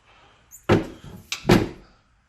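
A Yukon/Tahoe SUV door is opened with two close, solid thuds and a brief rattle, loud and alone in a quiet space.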